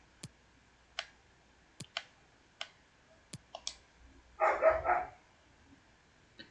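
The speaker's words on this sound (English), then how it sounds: "I do apologize if you hear the dogs." Dogs in a household setting, heard as a series of sharp, short bark-like bursts spaced irregularly, with one louder, longer cluster of barking midway, amid scattered clicking sounds.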